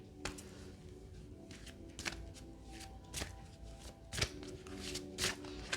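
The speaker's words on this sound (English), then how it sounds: "Y'all like, ain't you shuffling them enough?" Tarot cards are shuffled close by in quick, repeated riffles and slaps, a dense crisp rhythm at low volume with no talk.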